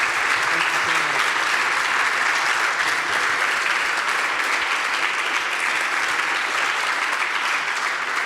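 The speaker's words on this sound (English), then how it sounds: "you can clap if you want." An audience claps steadily and loudly at the close of an in-conversation talk with the artists Elmgreen & Dragset at the Hamburger Bahnhof, the dense applause sustained without a break and no voices over it.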